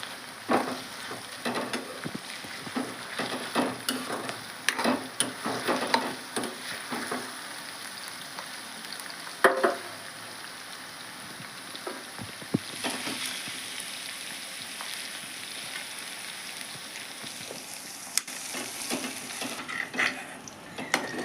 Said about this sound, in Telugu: పచ్చిమిర్చి కూడా బాగా ఫ్రై అయ్యింది